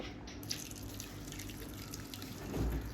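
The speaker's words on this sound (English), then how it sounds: "I'm going to add around 300 ml of water in the residue and again strain it" Water poured into leftover chicken chaap makhani gravy residue before straining, a steady faint trickle and splash with a louder gush near the end.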